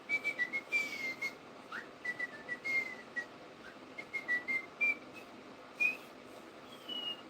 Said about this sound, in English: But now that I'm whistling, yeah, I know what that one is.